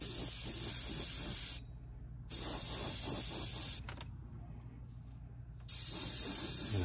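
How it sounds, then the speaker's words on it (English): Airbrush spraying paint onto a cicada crawler fishing bait, a loud steady hiss in three long bursts separated by short pauses, close by with no talk. "I'm going to angle the airbrush and the bait this way because I don't want overspray up in this area"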